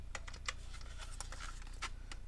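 Typing on a computer keyboard with Spanish-layout keys, a quick irregular run of light key clicks heard close and clear with no talking.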